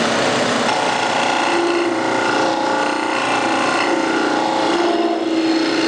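A woodturning gouge cuts a spinning bowl on a lathe, giving a continuous, loud, rough shearing hiss as shavings come off, with the motor hum underneath throughout.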